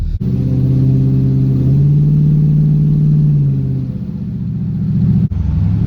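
Loud, steady engine drone inside a 1979 Pontiac Firebird Formula with a swapped 4.8-liter LS V8 and thin sound insulation, a low humming rumble that dips slightly near the end, with no voices.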